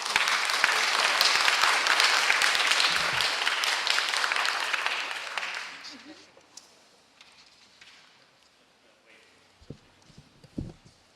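Audience applause for honorees at an LA Department of Public Works meeting, a dense, steady clapping from a crowd for about six seconds that then fades, leaving a quiet room with a few scattered thumps.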